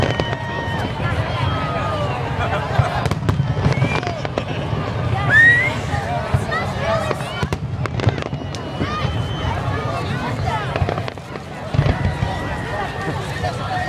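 Dense, rapid bursts of fireworks in a finale at a Target fireworks show, booming and crackling in quick succession at a distance while a crowd chatters and people talk nearby.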